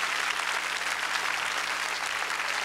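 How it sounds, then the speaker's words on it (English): A church congregation applauds during a worship service, steady dense clapping throughout, fairly distant and moderately loud with no talk over it. "give him an praise and an applause"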